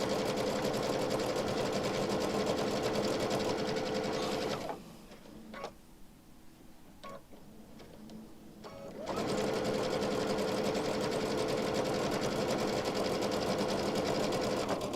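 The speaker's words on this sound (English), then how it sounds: "Just lining my fabrics up next to each other, lower my foot, and sew." Sewing machine stitching two pieces of quilting fabric together, a loud, continuous, close-up mechanical hum that pauses briefly with a few clicks and then starts up again.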